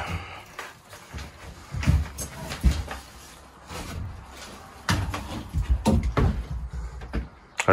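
An old chest of drawers in a grandmother's cottage is opened, giving a series of wooden knocks, scrapes and rattles, near and moderately loud, spread irregularly with quieter gaps in between.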